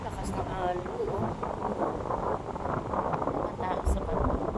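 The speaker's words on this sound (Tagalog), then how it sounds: "Lakas ng alon, oh." Strong ocean waves at a beach at sunset, a continuous broad roar of surf and wind rumble, steady and fairly loud throughout.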